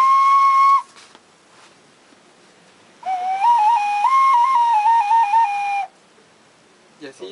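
A handmade clay whistle with finger holes, shaped from clay by a craftsman, gives a short clear tone, then after a pause a longer loud passage of shifting pitches played near and alone.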